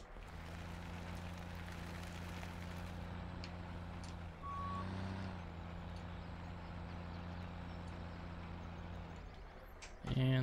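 A truck engine in the video game Farming Simulator 17 idles as a steady low drone with a reversing beep, then a sharp air brake hiss bursts out loudly at the very end.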